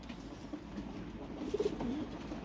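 Pigeons kept in a home loft give a few soft, low coos near the middle of the stretch over quiet background rustle, faint and brief.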